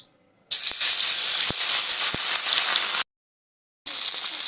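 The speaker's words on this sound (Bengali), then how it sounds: "আগে থেকে কেটে ধুয়ে রাখা ভোলা মাছটি এই গরম তেলের মধ্যে দিয়ে দেবেন" Bhola fish dropped into hot oil in a wok, bursting into a loud, steady hiss of frying that runs for a few seconds, cuts out briefly, then resumes just as strongly.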